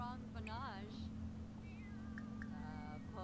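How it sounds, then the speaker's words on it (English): A cat in The Sims 4 life-simulation game meows in a couple of short, wavering calls over steady background game music, with no other sounds competing. "I feel like our cat's going crazy"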